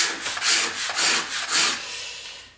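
A cabinet scraper shaves an oak chair seat in three or four quick rasping strokes, close and clear, with no talking.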